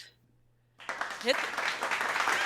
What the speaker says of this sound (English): So can you play the round of applause, actually?